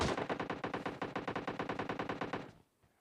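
Rapid automatic gunfire in the mobile battle royale game PUBG Mobile Lite, a steady, loud burst of evenly spaced shots for about two and a half seconds before cutting to near silence.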